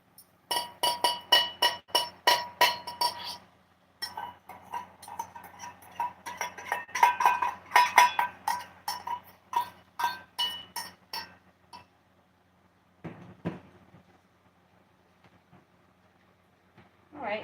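A metal spoon clinks rhythmically against a container in quick bright taps, close and clear, pausing and resuming in irregular bursts before trailing off near the end, with soap-making under way.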